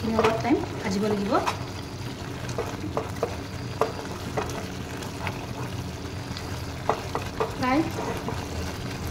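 Chicken curry masala with coriander and cumin powder fries in oil in a pan, giving a steady sizzle with frequent scraping and stirring knocks from a utensil, while a person speaks briefly over it.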